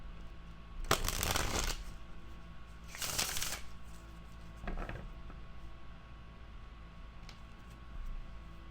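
A tarot card deck is shuffled by hand in three separate riffling bursts, the first two loud and close, the third shorter and softer, with quiet pauses between.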